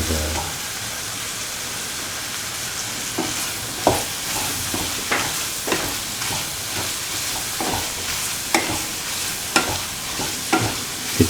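Bitter gourd pieces sauté in a pan, a continuous loud sizzle of hot oil punctuated by repeated scraping stirs at an irregular beat, with no voices.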